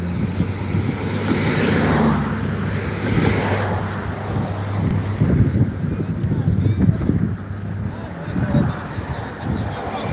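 A vehicle passes on a road during an outdoor walk, a broad rumbling swell that rises and fades under nearby voices talking.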